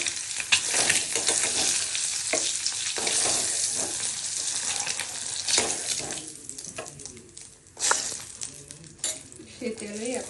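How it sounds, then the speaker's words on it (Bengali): Eggs fry in oil in a pan with a loud, busy sizzle and spatter, punctuated by spoon scrapes and stirring, continuous and close, with faint voices at moments. "ফ্রাই করে নিচ্ছি। তাহলে এভাবে ফ্রাই হয়ে গেছে"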